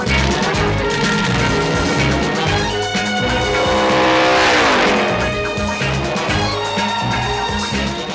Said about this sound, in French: c'est la voiture la plus rapide qui soit au monde, de 0 à 220 en 10 secondes